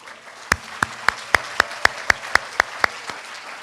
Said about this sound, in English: A big round of applause to both.